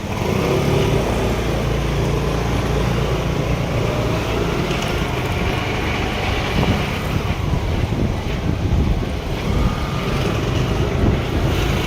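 Two-wheeler scooter fitted with support wheels being ridden outdoors, a steady engine drone with heavy wind rumble against the microphone throughout, continuous and fairly loud.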